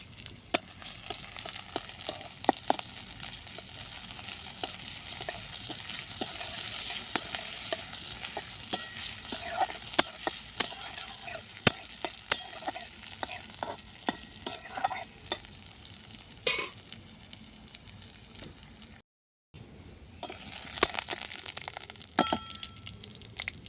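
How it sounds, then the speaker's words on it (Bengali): Chopped onion and green chili sizzle steadily in hot oil in a home kitchen pan, with frequent scraping stirs and small crackles throughout, close and moderately loud, a brief dropout near the end. "ফোড়নে দেবো পেঁয়াজ কুচি, আর দেবো লঙ্কা কুচি।"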